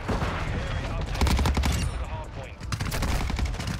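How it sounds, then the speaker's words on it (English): A Cronen Squall battle rifle fires in Modern Warfare 2, loud rapid bursts of close gunfire rattling in quick succession with brief pauses between strings, over game background noise. "This gun actually shoots a lot faster than I expected it to."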